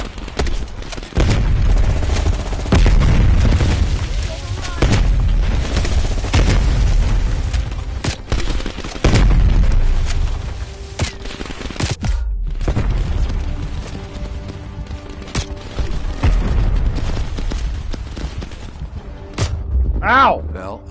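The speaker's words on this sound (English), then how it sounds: "You readied a grenade launcher and charged ahead." Grenade launcher firefight in the Black Ops Cold War campaign, with crash survivors holding off a Viet Cong attack: repeated loud booming blasts and bursts of gunfire under steady talking throughout.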